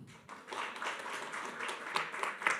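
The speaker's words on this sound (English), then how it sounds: "give another round of applause," Audience at a Ukrainian startup awards event gives a round of applause for a winner, a fairly quiet, steady patter of hands from a modest crowd with a few sharper claps near the end.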